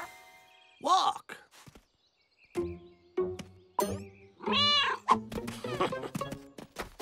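A cartoon cat named Azrael, just healed by a potion in The Smurfs 3D, lets out short meows and yowling cries in bursts across the scene, mixed with cartoon voices speaking nearby.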